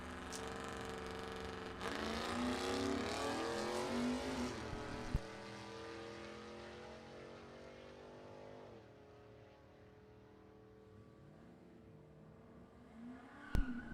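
Drag race cars, a Trailblazer and a 14 Camaro, launching side by side at a sportsman drag strip, engines roaring loud and steady, then fading away into the distance, with no talking.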